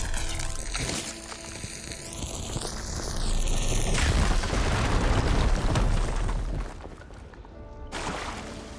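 Explosion blowing open a blocked tunnel in a video game, a swelling roar and rumble that builds, holds for several seconds, then fades beneath a lingering tone and game music.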